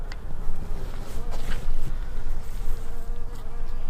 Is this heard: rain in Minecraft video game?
no